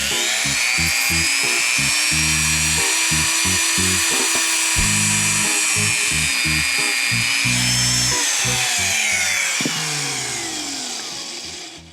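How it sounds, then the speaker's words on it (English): A Dremel rotary tool fitted with a needle bit whines at high speed while drilling a hole in a Christmas ornament, a loud continuous buzz with shifting pitch that winds down at the end. "I use my Dremel with just a needle in there"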